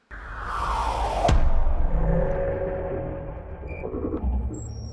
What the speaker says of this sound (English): Then I added this weird impact